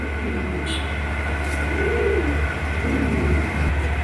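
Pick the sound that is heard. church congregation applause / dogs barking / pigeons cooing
pigeons cooing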